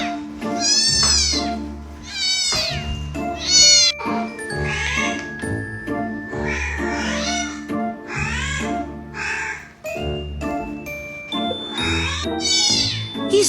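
A cat meows over and over, loud and close, with drawn-out, wavering calls coming in bursts and some overlapping, separated by short pauses and faint tinkling.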